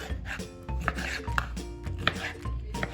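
Knife slicing an orange into chunks on a cutting board, a quick series of close, crisp chopping taps and thuds in an uneven rhythm, each cut landing with a small sharp knock.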